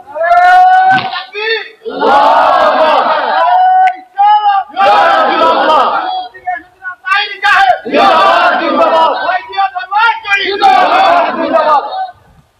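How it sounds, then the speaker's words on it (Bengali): Crowd at a religious gathering chanting a slogan in unison, loud repeated bursts of massed voices in a call-and-response rhythm with brief gaps between each shout. "দুই হাত তুলে একটা স্লোগান লন"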